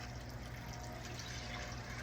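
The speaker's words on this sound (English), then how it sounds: "I'm going to fill it up with just some water." Water runs into a cooking pot for soup beans as a steady, even rushing fill, moderately quiet and unbroken from start to finish.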